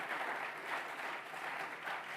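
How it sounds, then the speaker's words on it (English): A brief round of audience clapping at a women's pitch competition, many hands together in a continuous, even patter that holds steady for a couple of seconds without any speech over it. "So let's clap about that."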